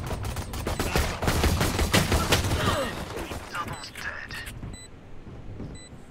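Rapid bursts of gunfire from a Valorant match crowd the first few seconds, loud and dense, then thin out into a few scattered shots and small game tones.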